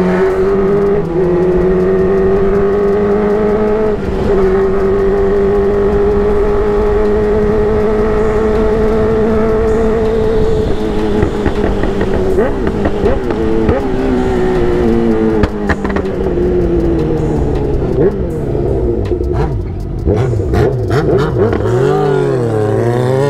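Honda Hornet motorcycle engine revving loudly and steadily for over twenty seconds, its pitch rising and falling through repeated throttle blips, close up with no voices over it.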